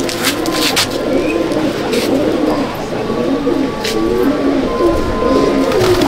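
Fulshira pigeons coo steadily in a pigeon loft in Chandannagar, Hooghly, several birds producing overlapping soft, throbbing calls close by, with occasional flutter and clatter.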